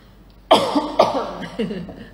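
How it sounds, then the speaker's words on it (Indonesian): A person coughs several times in quick succession at close range, sharp bursts tapering off within about two seconds. "Sorry ya, batuk dulu."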